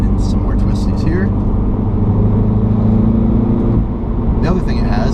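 A 2016 Mini Cooper S heard from inside while driving on a twisty road, a steady engine and road rumble with shifting pitch as the car works through corners, and someone talking over it.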